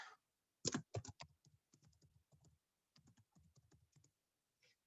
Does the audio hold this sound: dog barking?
no